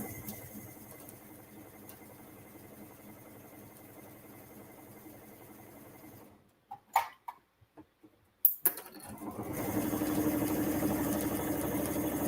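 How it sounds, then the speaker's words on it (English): A domestic sewing machine runs in a steady mechanical whir for about six seconds while stitching down the long side seam of a tote bag. A few sharp clicks and a brief pause follow, and then a louder, broader noise takes over. "And then sewing down the other long side."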